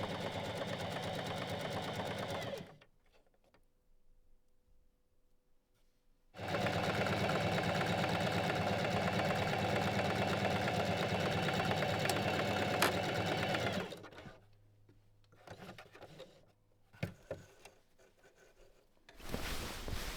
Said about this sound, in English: Then sew both shoulder seams with a straight stitch and 1 cm seam allowance.